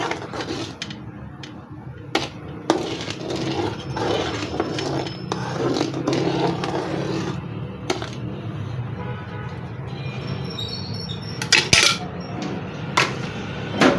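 A spoon stirs the ingredients for homemade ketchup, including benzoate powder, in a metal vessel, making continuous scraping and clinking with a few sharper knocks near the end and no speech.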